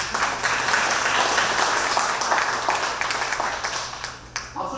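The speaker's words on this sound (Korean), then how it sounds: "박수 한번 쳐주세요" An audience at an inauguration ceremony applauds in a dense, steady wash of clapping that gradually thins and fades near the end, with a low hum underneath.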